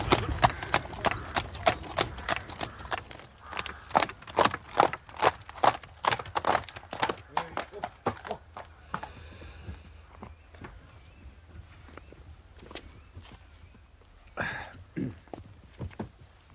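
Horse hooves clip-clop in a steady walking rhythm on hard ground, close and distinct, then thin out to a few scattered steps, with a brief snort near the end.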